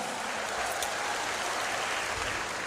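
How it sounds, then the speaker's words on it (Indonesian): Audience applause at a university anniversary event with a stand-up comedian on stage, a dense, even wash of clapping hands that stays steady and moderately loud, with no speech over it. "Tepuk tangan yang paling meriah untuk Sekolah Vokasi UGM dan juga UGM yang luar biasa"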